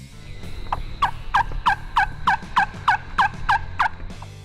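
A wild turkey gobbles in a rapid rattling burst of about nine or ten throaty notes, fairly close and clear over quiet outdoor background.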